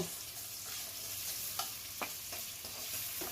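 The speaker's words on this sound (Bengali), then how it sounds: "পরিমাণ মতন তেল দিয়ে দিব পেঁয়াজ কুচি পেঁয়াজটা একটু ভালোভাবে ভেজে নিব" Chopped onions fry in oil in a pan, giving a quiet, steady sizzle broken by a few sharp clicks and scrapes as they are stirred, with no voices.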